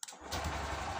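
A Honda SP motorcycle engine cranks and catches, settling into a steady close idle after the accelerator cable is fixed.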